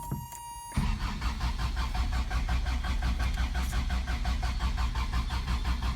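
A 1987 Toyota Pickup 22R, a lifted 2WD truck, cranks briefly after a quiet moment and catches on a cold start, settling into a loud, steady idle with a faint rhythmic pulse.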